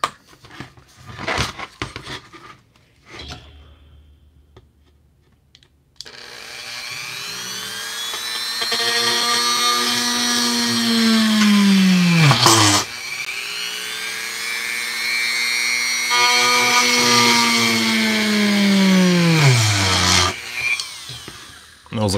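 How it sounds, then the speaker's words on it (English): Whining power drill boring holes into a plastic toy figure, two long runs that spin up and wind down, close and loud, with brief handling noises and a short pause at the start. "let's go and drill some holes"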